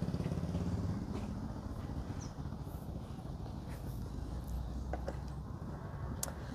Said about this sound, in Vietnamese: chúng ta sẽ đến với những cái tiếng nổ thật là giòn tan của động cơ Husqvarna Sweden